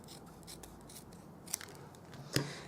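Scissors trim a strip of garden green cardstock for a handmade card, giving a couple of quiet, close snips with soft paper rustle between them in a hushed room.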